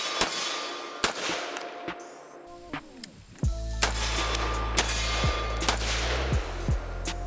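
Rifle gunshots fired through a red dot sight outdoors, a string of sharp, loud cracks in irregular quick succession, some spaced and some rapid, with a low rumbling hum building in the background partway through.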